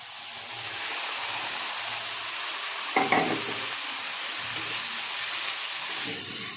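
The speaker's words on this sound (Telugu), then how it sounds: "ఇప్పుడు నెక్స్ట్ చింత చిగురు వేస్తున్నా" Tender tamarind leaves go into a frying village-style egg curry, a constant loud sizzle and hiss with one brief clatter of stirring midway and softer scrapes later, no voices.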